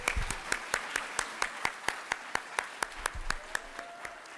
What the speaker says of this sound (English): Let's give a round of applause for our graduates.